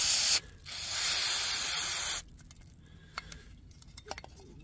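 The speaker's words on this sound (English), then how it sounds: "This is actual brake cleaner, not carb cleaner." Brake cleaner sprays from an aerosol can in a short hissing burst, then a longer steady burst lasting under two seconds, followed by quiet metallic clinks and small handling noises.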